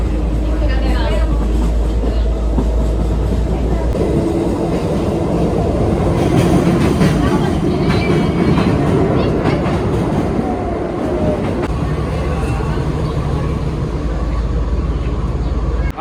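A train rides on its rails with a loud, steady rumble and rhythmic clatter of the wheels. The noise runs unbroken throughout, with faint muffled voices in the carriage.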